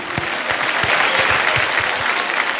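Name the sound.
audience applause at awards show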